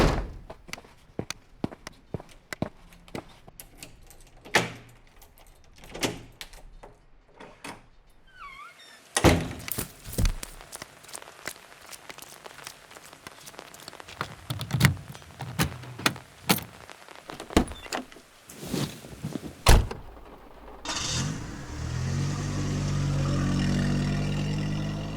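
Tabletop-game sound effects of a person hurrying to a car: scattered thuds and footsteps, a car door slamming shut, then an engine starting and a vehicle pulling away, with rumbling motor noise growing at the end.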